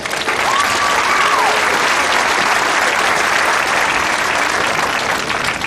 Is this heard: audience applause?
yes